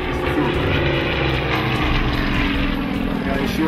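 A Yak propeller plane flying aerobatics at the Tatenhill Air Show gives a loud, steady engine and propeller drone close by, with a voice talking over it.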